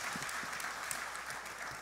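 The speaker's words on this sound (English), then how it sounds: "let me clap for that" A faint, steady patter of clapping hands from a small group, continuous and somewhat distant.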